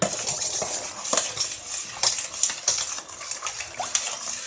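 Activated charcoal being stirred into sunflower and coconut oil for handmade soap, giving repeated light scraping and clinking of a utensil against a container, steady and close.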